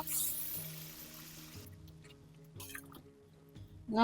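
Broth poured into a curry pan over fried spiced jackfruit seeds gives a soft, close trickle and dribble, with wet squishy splashes and a brief louder splash at the end, and no speech.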